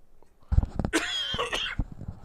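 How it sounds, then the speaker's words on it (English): A person coughs during a tabletop wargame tournament commentary, a loud close burst of harsh coughing with a brief throaty spasm, followed by a couple of smaller coughs and breaths. "Pardon me for the coughing"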